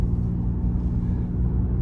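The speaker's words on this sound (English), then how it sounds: "Lexus RX350L out on the road for a quick test drive" A 2019 Lexus RX350L Premium with a 3.5-liter engine cruising on the road, heard from inside as a steady low engine and road rumble with no one talking.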